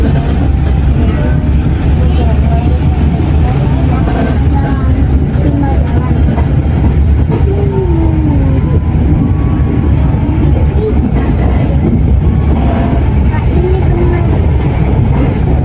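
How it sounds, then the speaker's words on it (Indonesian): The Walahar local train pulls out of Lemah Abang station with a loud, steady rumble of wheels and engine heard from inside the carriage, with faint voices mixed in. "kereta api lokal Walahar diberangkatkan kembali di stasiun Lemah Abang"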